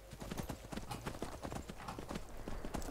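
Horse hooves clip-clop at a steady walking rhythm in the video game Skyrim, fairly quiet and even, with no voices over them.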